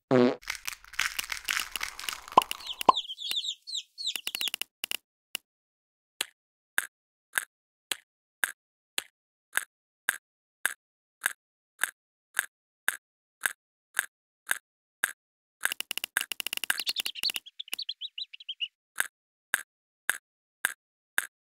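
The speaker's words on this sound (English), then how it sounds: "You can now feed the hungry chicks." Chicks being fed in a mobile game sound as a steady series of short, evenly spaced chirp-like pips. Two denser, longer bursts of game sound effects come before and between them, with no talk.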